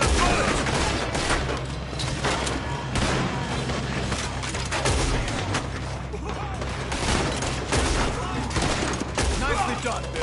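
Dense, loud gunfire fills a shootout in Red Dead Redemption II, rapid overlapping shots with booming reports continuing steadily throughout without pause.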